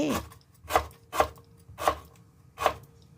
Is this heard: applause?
no